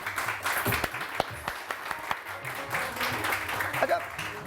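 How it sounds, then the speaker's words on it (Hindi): Studio audience on a morning television show clapping in uneven bursts, with sharp individual claps standing out and some background voices mixed in. "तालियां"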